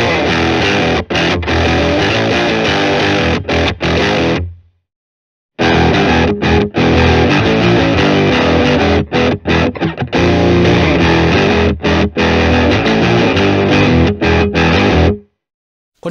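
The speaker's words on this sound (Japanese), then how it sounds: "これ今歪みとピッチシフターですけど、ピッチシフトって歪みの前か後かでだいぶニュアンスが変わる" Electric guitar played through distortion and pitch-shifter pedals routed by a Morningstar ML10X loop switcher, a loud, dense, saturated tone in sustained phrases with brief breaks and a full stop midway.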